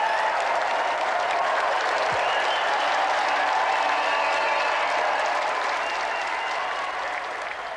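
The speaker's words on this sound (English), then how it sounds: "A round of applause, please, for John Morrison" Studio audience at a televised video game show breaks into sustained applause, a dense, even wash of clapping that holds steady for several seconds and slightly fades at the end, with no voices over it.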